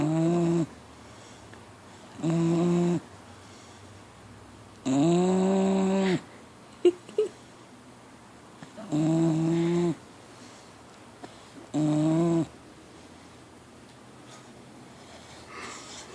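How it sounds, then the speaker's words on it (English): A four-month-old pit bull puppy snores in five long, regular rasping breaths spaced about every two to three seconds, close and loud against a quiet room, with small snuffles between them. "snoring like a full-grown man."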